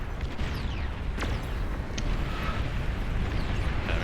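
A rumbling explosion in the strategy game Beyond All Reason, with a sustained low roar and a few sharp crackles over about four seconds, loud and without speech.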